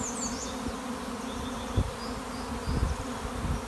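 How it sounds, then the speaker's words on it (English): A honeybee swarm streams out of a Saskatraz hive, a steady dense buzzing drone from many bees filling the air, with a few brief soft knocks standing out over the constant hum. "Bees are still pouring out of that hive."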